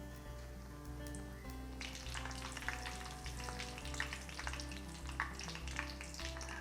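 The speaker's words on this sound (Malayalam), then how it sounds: "എണ്ണയ്ക്കകത്തോട്ട് ഓരോന്നായിട്ട് ഇട്ട് കൊടുത്താൽ മതി." Egg-battered brinjal slices fry in hot oil with a steady, close crackling sizzle that thickens into denser popping partway through. A low hum runs underneath and no one speaks.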